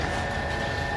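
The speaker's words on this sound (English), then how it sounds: "Loud train thing happening" A loud, steady rumbling roar of a passing train in the video game L.A. Noire, a continuous dense mechanical drone with a faint whine running through it.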